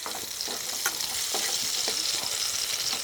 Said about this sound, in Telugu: పచ్చిమిరపకాయలు చక్కగా వేగిపోయినాయండి